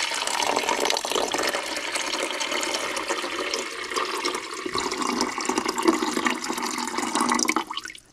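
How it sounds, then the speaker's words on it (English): Water pouring from a cup into an Insignia portable ice maker, a steady splashing trickle lasting several seconds before tapering off at the end, close and alone. "fill it up to the max level with water"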